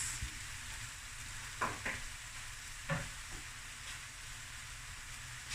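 Leftover rice stir-fries in a hot pan, an even close sizzle with a few distinct scrapes and knocks of a spatula against the pan.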